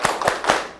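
Three loud, evenly spaced group claps from a class of children doing the 'tepuk semangat' cheer with their teacher, sharp and close together in a quick rhythm.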